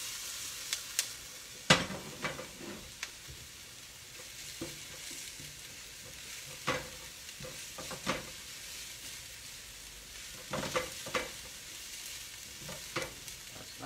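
Crushed garlic and onions frying in olive oil in a pan, a steady soft sizzle with scattered stirring clicks and scrapes of a utensil, fairly quiet and close, no talking.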